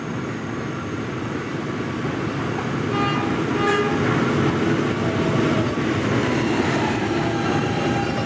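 A 57th Street bound E train at Fairview Avenue station rumbles steadily, with brief tonal squeals or a toot near the middle and a rise in loudness as it passes close by.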